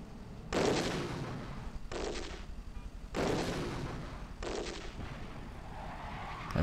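Video-game gunfire and artillery in Geopolitical Simulator 4 during the Battle of Jerusalem: a few heavy bursts of booming shots, each rumbling a second or so, separated by quieter stretches of low battlefield rumble.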